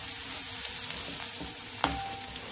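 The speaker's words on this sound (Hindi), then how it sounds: "जब तक हमारा लहसुन भुनता है" Crushed garlic frying in a pan while making masala rice, a steady close hiss of sizzling oil with a brief utensil clink near the end.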